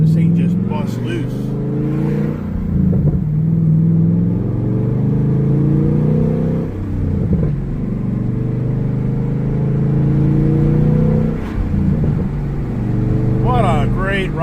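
A Camaro Z28's engine revs hard and accelerates, its rising and falling pitch sweeping in repeated waves across the stretch while someone talks loudly over it.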